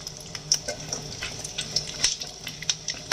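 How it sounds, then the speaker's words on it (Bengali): Cashews and whole tempering spices fry in hot oil in a pan, giving a quiet, steady sizzle broken by small sharp pops and crackles scattered throughout. "কাজুটাকে একটু ভাজা ভাজা হয়ে যাক, ফোড়নটা একটু ভাজা ভাজা হয়ে যাক।"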